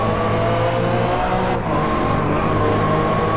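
A Ferrari F50 engine races in DriveClub, holding a loud, steady, high-revving drone throughout with no voices over it.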